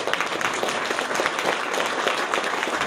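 Audience applause at a museum inauguration welcomes actress Corinne Marchand to the podium, sustained dense clapping from a crowd throughout.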